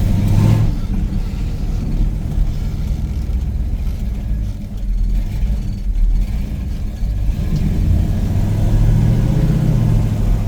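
A 1968 Pontiac Tempest GTO tribute, cold engine, accelerates while being driven, a steady low rumbling drone with road noise that swells slightly near the end, no talk over it.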